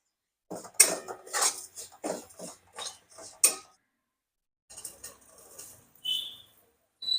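A spoon clanks and scrapes in a pan as ridge gourd is sautéed with coconut, salt and turmeric, making irregular clattering taps with brief pauses and no sizzle.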